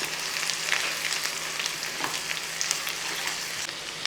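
Sliced shallots and dried red chillies fry with fenugreek in hot oil, a steady close sizzle and crackle with occasional pops from stirring, no talking.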